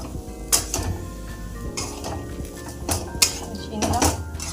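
Garam masala powder being mixed into a thick fish-head and potato curry, with several sharp metal clinks of a spoon against the pan over a low background hum, close and fairly loud.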